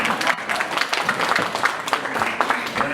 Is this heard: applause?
yes